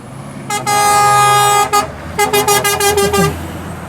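A Woodside Scania truck at Cairnryan port sounds its air horn, one long loud blast, then a short toot, then a rapid string of short honks, close by.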